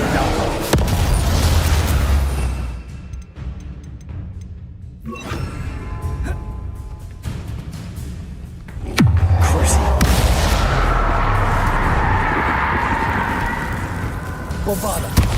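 Spell blasts from Bombarda and Confringo in Hogwarts Legacy sound as loud booming bursts, one near five seconds and another near nine, amid dense game noise and a spoken voice.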